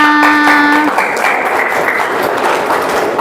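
Children in a seventh-grade classroom clap together in a dense burst of applause that follows a brief tonal chime and carries on steadily to the end.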